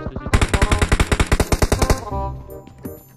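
Automatic gunfire in a battle royale video game, a loud rapid burst of evenly spaced shots lasting nearly two seconds, followed by a trailing rumble and faint sounds.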